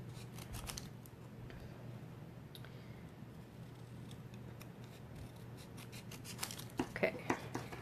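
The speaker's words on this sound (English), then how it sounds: "so I'm going to snip this" Scissors snip through glossy cardstock in a few quick cuts near the end, crisp and close, over a steady low hum with a voice talking softly in the background.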